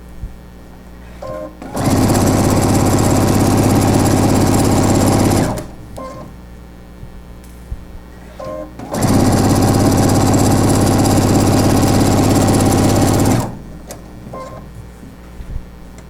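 A sewing machine stitches cloth napkins in two long, loud bursts of steady motor whir, each about four seconds, separated by a short quiet pause with light handling noise.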